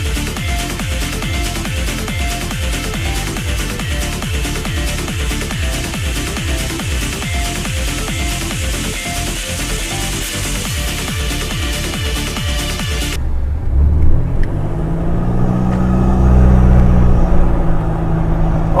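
A car with a new iDrive throttle controller on its Ultimate 4 setting drives along with a loud, rhythmic pulsing engine drone, then shifts to a deeper, swelling rumble as it accelerates.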